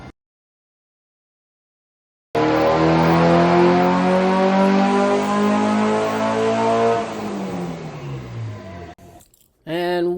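A Honda B20B engine with 750cc injectors revs hard on a dyno, a loud sustained run with rising and falling harmonics before a quick drop-off and a brief second blip near the end.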